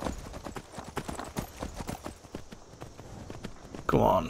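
Horse hooves in the video game Skyrim, modded and played on Xbox Series X, clip-clop in a steady, close walking rhythm, and a loud whinny breaks in near the end.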